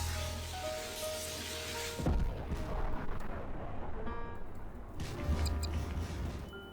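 Cluster bomb blasts in Garry's Mod rumble through a dense, noisy game mix, with a sharp burst around two seconds in followed by continued crackling and booming.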